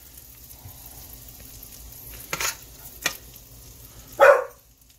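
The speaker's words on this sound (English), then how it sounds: "Don't mind the dogs." Dogs bark in the background while sea robin fries in a pan, with a steady sizzle throughout and a few short, sharp bursts of barking, the loudest near the end.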